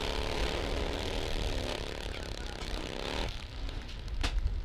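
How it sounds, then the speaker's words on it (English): A top fuel nitro Harley drag-racing motorcycle engine runs during final eliminations, giving a loud, continuous roar that holds steady, then shifts in tone and drops slightly toward the end. "You don't sit on a nitro Harley when it starts because it's too dangerous."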